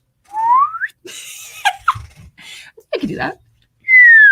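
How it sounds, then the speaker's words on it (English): A rising slide-whistle glide opens, followed by brief speech and breathy sounds, then a second sustained, slightly falling whistle tone. "I feel like I should play something like this, the slide whistle."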